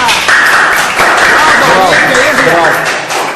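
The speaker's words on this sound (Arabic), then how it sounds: "تشجيع عالية." Bursts of clapping and cheering for a nine-year-old boy after a mental arithmetic feat, mixed with lively voices and excited shouts throughout.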